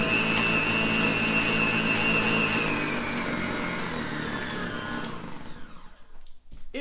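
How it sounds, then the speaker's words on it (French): A stand mixer kneads pizza dough at medium-high speed, a loud steady motor whine with a slowly falling pitch that fades and sputters near the end. "on met ça à moyen haut, puis on laisse pétrir la pâte pendant 5 minutes"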